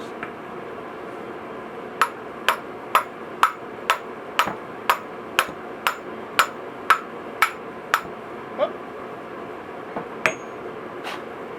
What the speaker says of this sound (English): Good old cheap wooden O'Reilly's hammer.